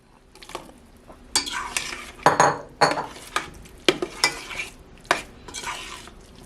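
Soft cooked cauliflower stirred back into a pot with kefir and cheese, a spoon scraping and clinking against the pot in irregular bursts, close and fairly quiet, with a faint sizzle in between.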